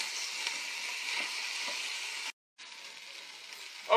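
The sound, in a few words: onions and spices cooking down in an Instant Pot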